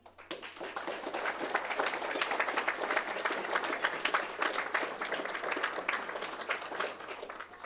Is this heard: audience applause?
yes